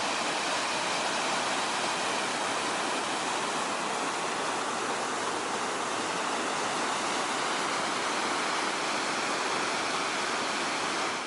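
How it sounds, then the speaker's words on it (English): Dense, steady rushing water from waterfalls in a scenic outdoor setting roars continuously and evenly, with no voices. "I'm gonna insert another clip here so you guys can see the waterfalls."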